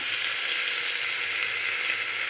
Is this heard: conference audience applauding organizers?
no